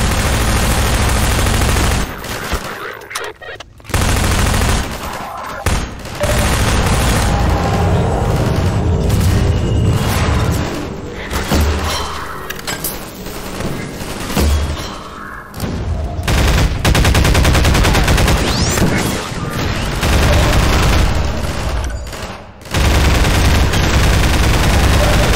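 Sustained gunfire in the PC shooter Half-Life 2, loud and dense bursts of shots and booms filling nearly the whole stretch, with brief gaps between volleys.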